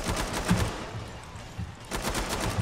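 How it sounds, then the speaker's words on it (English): A nail gun fires repeatedly in the video game Killing Floor 2 as a rapid, loud train of sharp mechanical shots in two bursts with a brief lull between them. "This nail gun is so powerful."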